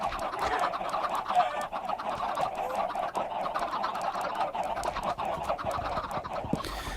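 Chickens in the video game Minecraft cluck continuously, with a busy, overlapping chatter of many birds close by.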